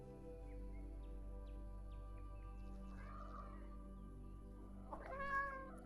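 A cat meows indoors over a steady low hum, with a harmonic call near the three-second mark and a louder, clearer meow around five seconds, no one talking.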